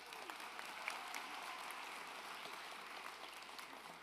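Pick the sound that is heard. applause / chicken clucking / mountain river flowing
applause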